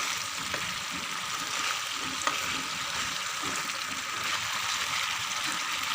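Koi fish frying in hot oil, a steady, continuous sizzle with soft crackles and bubbling holding at an even level throughout, close by and with no voices.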